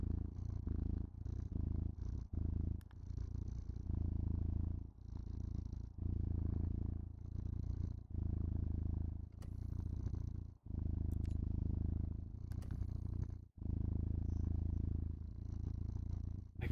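A shy, scared cat purrs steadily up close, a continuous low rumbling broken only by brief pauses for breath.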